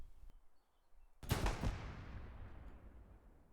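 An artillery gun fires once in the Hell Let Loose video game, a sudden loud blast followed by a long rumbling decay, with no voices.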